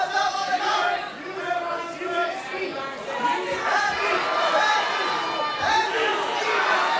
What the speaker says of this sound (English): Capacity crowd, very electric.